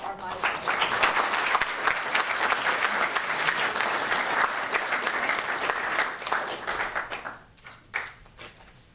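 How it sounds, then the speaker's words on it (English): Audience applause fills a hall at a Myasthenia Gravis Month event in Connecticut, steady and dense clapping that lasts most of the stretch before thinning and fading near the end. "So round of applause for our myasthenia."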